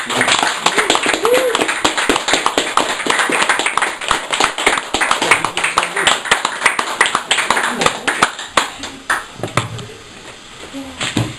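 An audience claps for poet Sam Loveless after a performance poetry set, a loud close burst of individual hand claps that thins out and fades toward the end.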